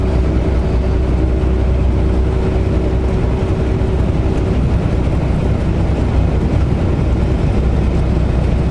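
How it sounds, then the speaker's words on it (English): A truck's cooling fan runs loudly and continuously, producing a heavy, steady mechanical drone with a deep low rumble and no breaks. "The truck is being quite noisy with the fan going all the time."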